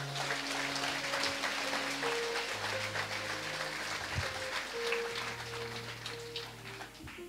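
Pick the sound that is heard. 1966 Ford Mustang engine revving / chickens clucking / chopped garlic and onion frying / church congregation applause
church congregation applause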